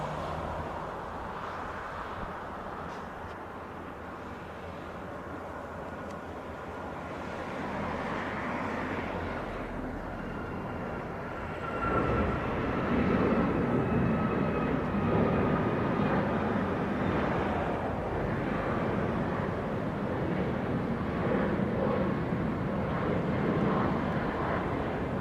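A Southwest airliner taking off from the Montego Bay runway. Its steady jet engine roar builds and then holds loud, broad and continuous for the whole stretch.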